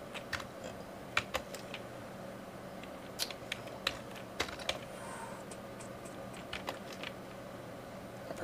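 Someone types hex code on a computer keyboard: quiet, close key clicks at an uneven rhythm with a few louder taps, over a faint room hum and without speech.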